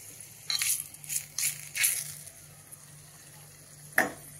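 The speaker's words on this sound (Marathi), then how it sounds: "याला टाकू लाल मिरच्या, छान परतून घेऊ आपण" Red chillies are tossed and stirred in a hot pan for a Maharashtrian dal, giving short bursts of crackling sizzle and scraping in a few quick strokes, then one brief sharp sizzle after a pause.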